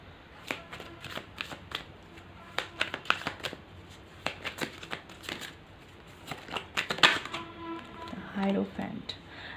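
Tarot cards being shuffled by hand, a quick series of soft riffling snaps and flutters in irregular bursts, close and quiet, with some handling noise toward the end.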